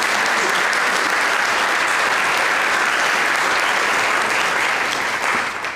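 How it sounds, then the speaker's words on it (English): Sustained applause from a large audience at a college honors program cording ceremony, loud and steady for several seconds before tapering slightly at the end. "You've got to get used to applauding"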